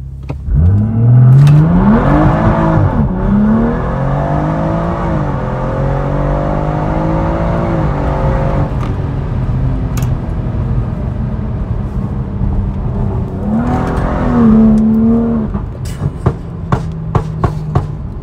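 A BMW M140i F20 LCI on stage 2+ tuning with a full straight-pipe exhaust revs and accelerates with wheelspin, its rising engine note loud and close, followed by a second burst of revs and a few sharp crackles at the end.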